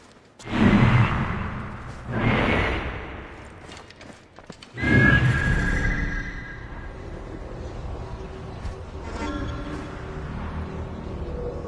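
A horse neighs loudly several times in Assassin's Creed Origins, with hoof clip-clops and breathy snorts in between, close by and without speech.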